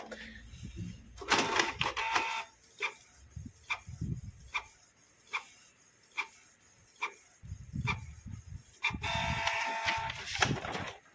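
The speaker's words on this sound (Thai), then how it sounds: "รอให้เครื่องเขาล้างหัวพิมพ์ให้เสร็จ" A Canon G2010 inkjet printer with a clog that stops its ink from printing runs a print head cleaning cycle, with close mechanical whirring bursts and a steady series of evenly spaced clicks in between.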